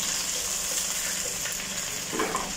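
Marinated chicken fries in a pan with a steady, dense sizzle and crackle, close and constant throughout, with faint stirring near the end and no talk.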